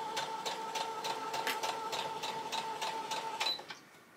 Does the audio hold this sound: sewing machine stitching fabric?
yes